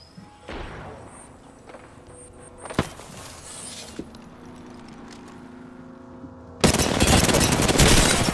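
Video game gunfire breaks out in sharp bursts, with a couple of isolated shots early on and a loud, sustained volley of rapid fire taking over for the final seconds.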